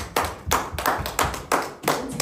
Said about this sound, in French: est-ce qu'on peut encore applaudir pour la parole que nous avons